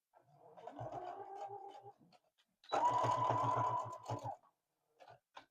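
A sewing machine stitches a seam on a dress in two close bursts of fast, even mechanical chatter, the second longer and louder, separated by a pause and followed by a few faint handling sounds.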